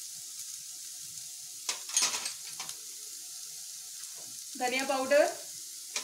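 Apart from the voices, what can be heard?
onion, garlic, ginger and turmeric frying in pan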